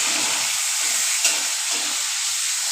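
Onion frying in a pan, a steady, close, loud broadband sizzle that holds throughout with a brief stir-like bump partway, no voices.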